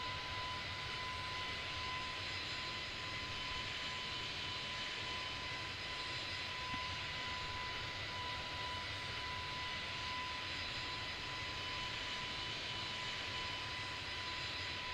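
Airplane engine drones steadily through a flight simulator climb toward a 27,000-foot cruise, a constant broadband roar with a faint steady tone, unbroken and even for the whole stretch.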